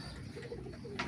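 Pigeons in a loft give soft, low cooing calls close by, with a brief brighter chirp near the end over a quiet room background.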